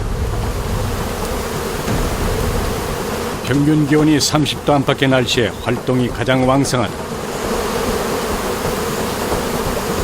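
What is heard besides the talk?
Indonesian honeybees buzzing around tall tree nest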